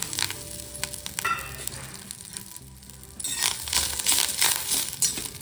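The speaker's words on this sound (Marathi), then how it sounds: "थोडं तेल टाकून घेते कढीपत्ता चांगला फ्राय होण्यासाठी" Curry leaves fry in hot oil in a pan with cumin and garlic, giving crackling sizzle and spatters with a few metallic clinks; the frying swells louder in the second half.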